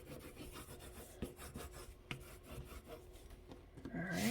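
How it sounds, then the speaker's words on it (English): Quiet, repeated rubbing and scraping as a tool burnishes paper pieces down onto a small 5x7 mini album, soft irregular strokes close up without talk. "Now, I'm going to take and I'm going to burnish all of these down."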